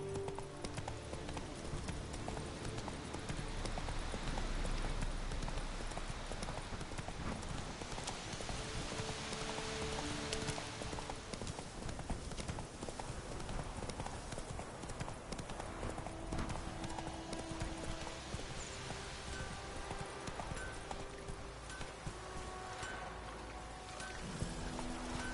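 Hooves of a horse in The Witcher 3 clip-clop in a fast, continuous galloping rhythm close by, over a steady wash of rain, for the whole stretch.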